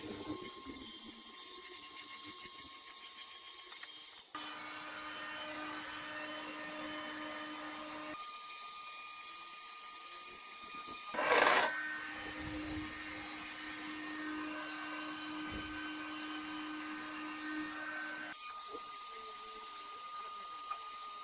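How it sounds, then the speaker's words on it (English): A heat gun blows with a steady whirring hum while it heats a bent fiberglass bumper from a Talbot Express. The drone stays fairly even, with changes in pitch and level at a few points and a brief louder burst midway. "I'm going to try a bit of heat with a gun."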